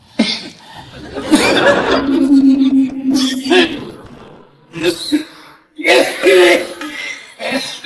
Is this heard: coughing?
yes